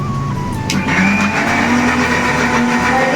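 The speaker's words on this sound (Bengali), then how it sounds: "তো এটাই আমি এখন পেস্ট করব আমাদের জন্য, আমাদের রান্নার জন্য আর কি।" A kitchen grinder blends soaked dried red chillies into a paste for cooking, a steady loud motor whir running throughout with a rising, straining tone.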